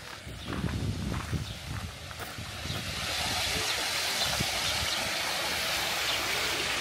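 Footsteps crunch at first, then a steady rush of falling water from a waterfall near Alesund, Norway, swells and fills the scene, constant and fairly loud.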